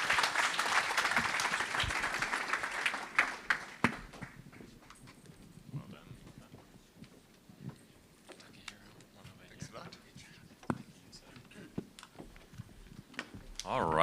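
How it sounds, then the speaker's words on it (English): An audience at a Silicon Valley supply chain and manufacturing summit gives a round of applause for guests: loud, full clapping for about three seconds, then fading to scattered claps and sharp knocks while a voice talks over the room. "Round of applause, please, for our esteemed guests."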